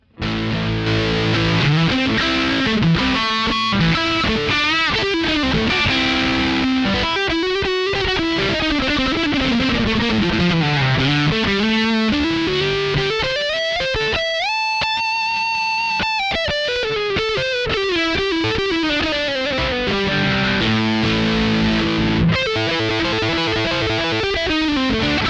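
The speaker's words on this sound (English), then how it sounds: "So it's a distortion booster as well." An electric guitar through a distortion booster pedal plays a sustained, loud lead with bends and held notes, thick and saturated throughout, no voices.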